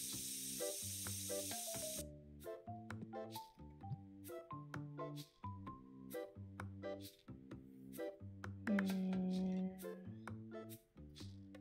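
A spray can hisses in TCG Card Shop Simulator, a steady airy burst of about two seconds at the start that then gives way to plinking game music.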